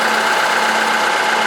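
A Zetor Major 80 tractor engine runs steadily at a loud, close idle, with a constant droning hum and faint knocking texture and no change throughout.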